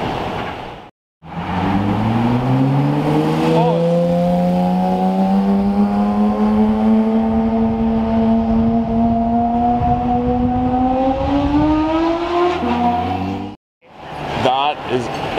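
A car engine revs up loudly nearby, its pitch climbing steadily over many seconds before cutting off, then briefly rising again, with voices faintly underneath.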